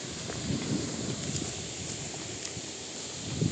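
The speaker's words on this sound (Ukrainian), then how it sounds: "Вітер сильний." Strong, gusting wind on an open lakeshore during a fishing trip as a storm approaches, a continuous rushing roar with low microphone buffeting and a few faint knocks, no voices.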